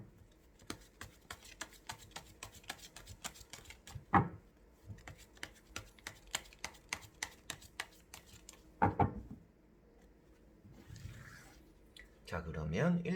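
Tarot cards are shuffled and drawn for a daily reading, making soft papery flicks and riffling clicks in an uneven rhythm at close range, with a few louder slaps and a voice speaking briefly near the end.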